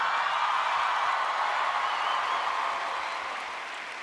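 At the 2019 Juno Awards, a large audience applauds as Shawn Mendes is welcomed to the stage: dense, steady clapping that holds strong, then slowly fades near the end.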